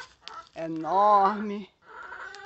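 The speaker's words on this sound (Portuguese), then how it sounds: "Galinha cantando no fundo." A chicken clucks in the background of a rural garden with banana plants, urucum and taioba, giving a short rising cackle close by, with a voice speaking just before and after.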